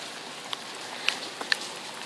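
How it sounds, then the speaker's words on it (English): Rain falls outside a campervan, a soft continuous patter with a few sharper individual drops ticking close by. "Yeah, it's raining outside."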